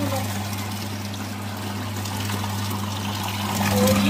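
Portable mini washing machine running with warm water inside, a steady motor hum with sloshing, trickling water throughout, close by and moderately loud.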